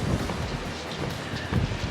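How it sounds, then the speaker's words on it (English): Strong wind buffets the microphone at the Lyme Regis seaside in Dorset, a steady broadband roar with heavier gusts near the start and end, surf blending into the rush and no speech. "It's really windy."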